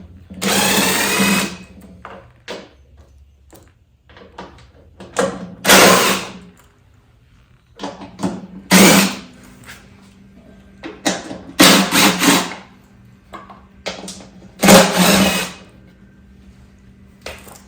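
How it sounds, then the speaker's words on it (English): A 10mm socket removes bolts from a John Deere 100 Series 42-inch mower deck, giving repeated bursts of sharp metallic ratcheting and clanks with short pauses between them, close and fairly loud. "we're going to use a, what do we got here? 10mm socket and get all of these out"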